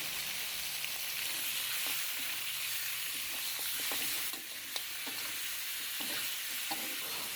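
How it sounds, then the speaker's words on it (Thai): Cut pork ribs stir-fry in a pan, making a continuous close sizzle. Scattered spatula scrapes and light clinks run over it, with no voices. "ตามด้วยซี่โครงที่หั่นเตรียมไว้แล้วนะครับ ลงไปผัดได้เลยครับ"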